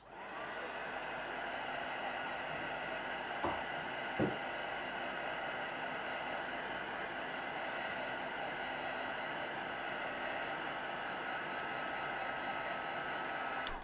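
A hair dryer drying paint on a paper bag for mixed media journaling, a steady loud rushing whir held unbroken for over thirteen seconds, with a couple of faint knocks early on.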